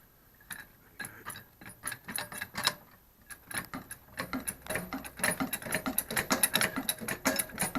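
Repeated mechanical clicking and ratcheting from a 2.5-ton high-lift trolley jack being pumped to lift a car, irregular strokes growing busier and denser, close up with no talking.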